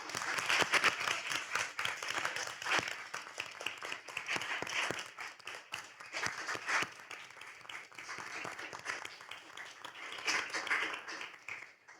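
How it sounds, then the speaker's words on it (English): A school board meeting audience gives a round of applause for a PTA volunteer, with irregular hand claps from a modest crowd that rise and fall over twelve seconds. "let's give her a round of applause."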